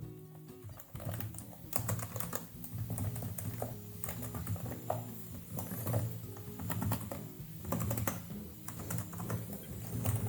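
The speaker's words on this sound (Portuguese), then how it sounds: "esse aqui é o barulho que faz quando a gente está digitando" Steady, soft clicking of keys on a Lenovo LOQ 15IRX9 gaming laptop being typed on up close, a continuous patter of keystrokes with no voices.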